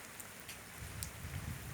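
Rain falls continuously on a pavilion near a reservoir, a soft broadband patter with a few louder drips standing out close by and a slight rumble building toward the end.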